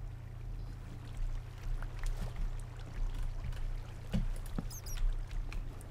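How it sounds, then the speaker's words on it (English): A steady, close rushing of flowing water in Minecraft, continuous and even, with a few faint clicks and blips over it and no talk. "I want to get up there and stop that water."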